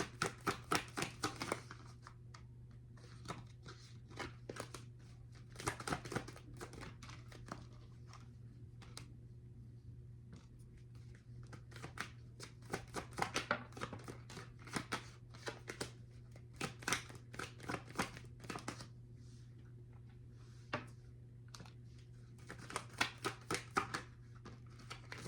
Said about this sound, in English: Sorry, cards were falling.